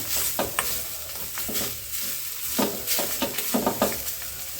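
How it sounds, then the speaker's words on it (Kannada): Grated coconut roasts in a pan toward golden brown, with a soft continuous sizzle broken by repeated scraping strokes of a spatula in an uneven rhythm, heard up close without talk. "ಸ್ವಲ್ಪ ಈ ತೆಂಗಿನ ತುರಿಯ ಹಸಿ ಏನಿರತ್ತೆ ಅದು ಸ್ವಲ್ಪ ಹೋಗಬೇಕು ಹಾಗೆ ಸ್ವಲ್ಪ ಗೋಲ್ಡನ್ ಬ್ರೌನ್ ಬರತ್ತಲ್ಲ ಅಲ್ಲಿವರೆಗೆ ಹುರ್ಕೋಬೇಕಾಗತ್ತೆ"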